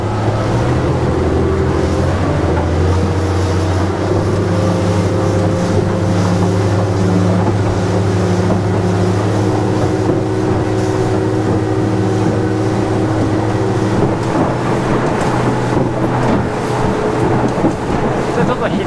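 A steady, loud low engine drone from an SR25 flybridge cruiser with a 250 hp engine, running continuously with water wash and some hull noise around it.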